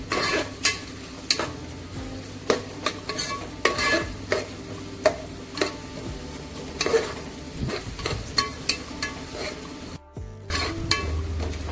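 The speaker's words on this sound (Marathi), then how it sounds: "एक मोठा कांदा कापून घेतलेला आहे, तो टाकते। आपल्याला कांदा चांगला शिजू द्यायचा आहे।" A large chopped onion fries in a pan while a utensil stirs it, giving steady sizzling with frequent sharp scrapes and clinks of metal against the pan, close and loud throughout, with a brief drop partway through.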